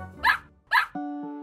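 A single dog belonging to new neighbours barks twice in quick succession, loud and close, followed by a short tonal musical sting.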